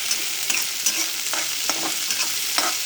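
Chopped onion and green chillies sizzle in hot oil in a pan while being stirred for upma, a loud steady frying hiss broken by repeated scraping stirs, with no voices.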